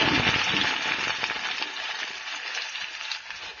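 Chopped onions frying in hot oil with mustard seeds and urad dal in a South Indian cluster bean kootu preparation, giving a steady, close, bright sizzle that fades slightly as the pan settles.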